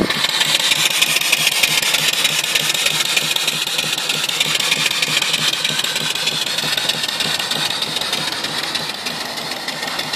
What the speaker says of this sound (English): Real nice running engine.